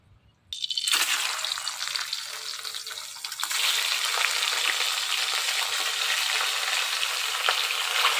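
Magur catfish dropped into hot oil in a heated wok, erupting into a loud, dense sizzle after a brief quiet start, then frying steadily and intensifying partway through.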